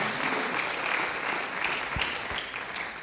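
Church congregation applauding steadily throughout, a dense continuous clapping from a large crowd indoors with no speech over it.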